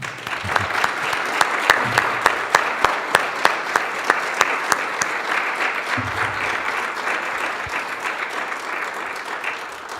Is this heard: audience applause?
yes